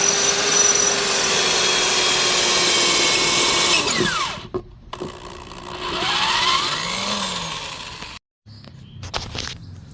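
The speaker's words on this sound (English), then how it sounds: "drill a whole bunch of holes in them until it worked" A power drill whines steadily at high speed drilling holes in tires for a kids' drift trike, then slows and stops, followed by brief whirring bursts and handling noises nearby.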